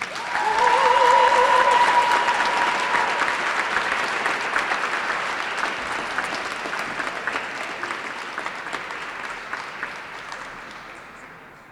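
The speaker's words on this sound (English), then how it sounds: "Please give a round of applause to Tia Humphrey" A crowd at a Kentucky children's advocacy rally applauds Tia Humphrey, loud sustained clapping that starts strong and slowly fades over about ten seconds, with a brief whistle near the start.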